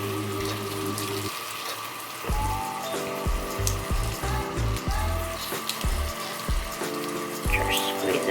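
Tap water splashes and runs into a beauty blender makeup sponge at a sink, a close, steady trickle broken by squelching bursts as the sponge is worked under the stream.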